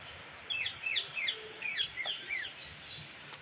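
Thin, squeaky pigeon calls chirp repeatedly in quick bursts, soft and nearby, over a faint hiss.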